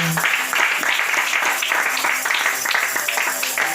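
A church congregation applauds in praise of the Lord, a dense steady wash of many hands clapping with some rhythmic pulsing, voices mixed faintly into the crowd.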